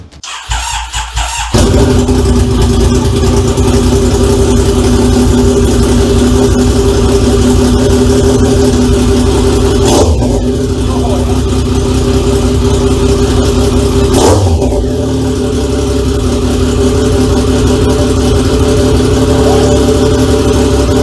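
A car engine fires up after a brief crank and settles into a loud, steady roar with two sharp revs, its exhaust fitted without a silencer, close and raw in a home garage.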